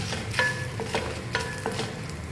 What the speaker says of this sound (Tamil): கடலைப்பருப்பு உளுத்தம்பருப்பு ரெண்டும் போட்டு 2 நிமிஷம் மூடி வச்சிடலாம். பாருங்கள், இப்போ இது நல்லா ரோஸ்ட் ஆயிடுச்சு